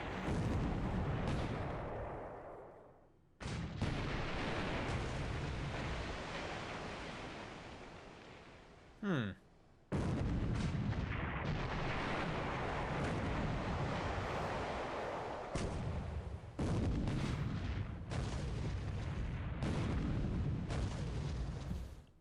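Heavy naval gunfire from the cruisers Leander and Achilles in the War in the Pacific game comes as a series of booming, rumbling salvos with long rolling tails. The blasts are loud and repeat several times, with one brief whistling shell sound in the middle and no talking.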